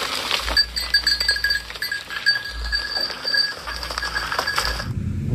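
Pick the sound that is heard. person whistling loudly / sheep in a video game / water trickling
sheep in a video game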